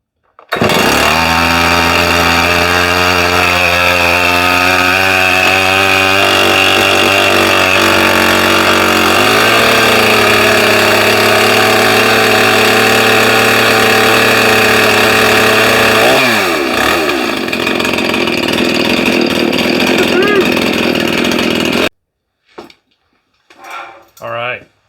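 A rebuilt Stihl MS 311 chainsaw runs loud and close at a high, steady idle. It revs up in stepped pitch rises for about twenty seconds, then cuts off, leaving a few brief noises afterward.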